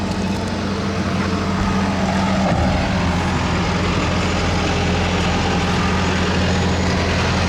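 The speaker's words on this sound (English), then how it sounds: "sorry about the tractor going past" A tractor driving past in a busy boatyard makes a loud, steady, heavy diesel rumble that fills the whole stretch without pause.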